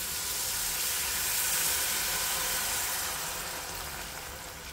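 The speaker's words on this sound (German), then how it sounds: "Jetzt löschen wir das erste Mal mit Fond ab." Glassy onions in a pot for lentil soup hiss and sizzle loudly as stock is poured in, a dense steaming rush that swells and then slowly settles.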